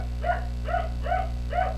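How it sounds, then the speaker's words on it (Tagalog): A dog barks four times in an even rhythm, each bark short and moderately loud, heard indoors over a constant low electrical hum, with nobody talking. "medyo maingay yung aso namin."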